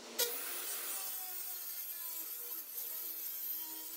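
Excess wood being trimmed off the siding of a shed with a power tool, a steady, bright, hissing cut that runs continuously at close range without any talk.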